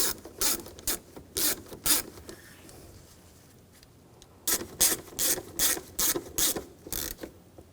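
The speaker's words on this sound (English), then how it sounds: "And get that bolt started. Snug that down and take these 2 screws." Bursts of rapid ratchet clicks as a bolt is snugged down on a downstream oxygen sensor of a 2007-2013 BMW X5 3.0L inline-six, in two clusters separated by a quiet pause, close and fairly loud.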